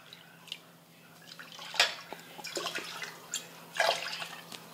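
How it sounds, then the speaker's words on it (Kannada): Water poured from a cup onto washed semolina, heard as quiet scattered splashes and drips in short bursts, close and faint, with no talk. "4 ಕಪ್ ನೀರು ಹಾಕ್ಕೋತೀನಿ ನೋಡ್ರಿ."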